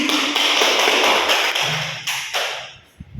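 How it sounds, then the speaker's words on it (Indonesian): Classroom applause for a student group, a dense burst of many hands clapping that fades out over about three seconds, with a few scattered claps at the end. "Terus berikan aplaus kepada kelompok 1."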